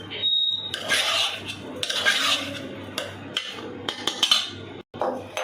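Utensils scraping and clinking against a dish while khaman, a Gujarati steamed snack, is mixed at home, with bursts of rubbing and sharp metallic taps close by.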